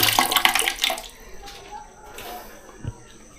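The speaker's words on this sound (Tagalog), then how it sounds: "tingnan natin kung may tubig. Yun. May tubig." Water gushes from a tap at a campsite for about a second, then trickles and splashes quietly with occasional drips and light knocks.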